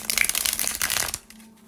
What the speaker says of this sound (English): I'm going to shuffle these things up right now.